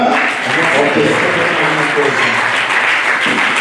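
A church congregation applauds and acclaims the Lord with loud, dense, steady clapping mixed with shouting voices throughout.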